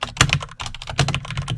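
Fast typing on a computer keyboard while filling in a Microsoft Access table, a close, crisp run of irregular key clicks with a few heavier strokes.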